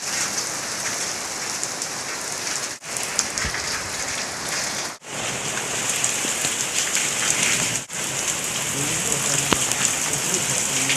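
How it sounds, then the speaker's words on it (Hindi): Heavy storm rain pours down in a dense, continuous roar, with a few brief dips where the sound cuts out for a moment, water coming inside a house. "इतनी ज़्यादा बारिश हो रही है।"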